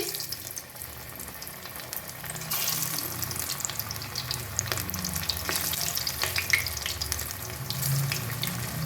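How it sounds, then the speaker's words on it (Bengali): Spring onion pakoras deep-fry in hot oil, a continuous loud bubbling sizzle with crisp crackles close up, steady throughout and growing slightly denser after the first few seconds. "বাকি পকোড়াগুলোও ভেজে নিচ্ছি"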